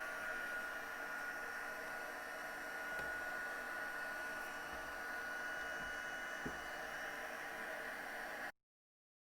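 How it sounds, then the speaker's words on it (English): A heat tool blows steadily to melt embossing powder for a slimline card, a continuous loud hiss with a low motor hum that runs unbroken for about eight seconds, then cuts off. "I'm just going to go ahead and put on my heat tool so that I could warm up"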